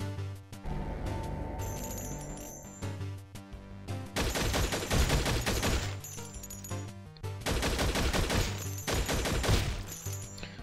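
Rapid bursts of gunfire from a heavily armored ex-soldier in the zombie game Infectonator: Survivors ring out in dense clusters, pausing briefly between volleys, over a steady, loud layer of game music and effects.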